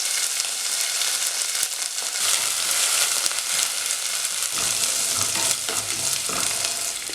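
Steady, loud sizzling of curry leaves and dried red chillies frying in hot oil with onions, with scraping stirring sounds running throughout.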